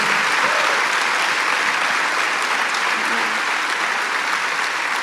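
A church congregation applauds loudly and continuously during a worship testimony service, a dense, even wash of clapping from a large crowd filling the room.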